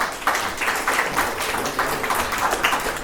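Audience at a white coat ceremony applauding a speaker, a steady dense wash of many hands clapping throughout at moderate distance, with no voices over it.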